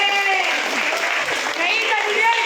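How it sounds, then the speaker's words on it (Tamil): Audience applause at a prize-giving ceremony for a kolam drawing contest in Chidambaram, a steady dense round of clapping from a crowd close by. "நல்ல ஒரு கரகோஷம் கொடுக்கலாம்."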